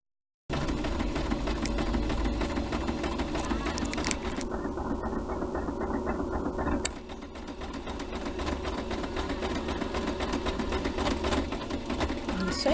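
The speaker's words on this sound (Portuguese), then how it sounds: "Então agora a gente vai costurar" A sewing machine sews a romantic-style apron in a long, steady mechanical run with a gear-like rattle, a brief click partway through, and voices occasionally under the motor.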